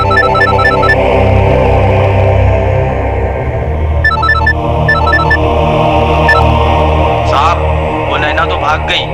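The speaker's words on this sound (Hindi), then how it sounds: "अरे सुनिए, आपका फोन बज रहा है।" Mobile phone ringtone plays in repeated short electronic beeping bursts, loud and close, over a steady background hum, with a voice briefly heard near the end.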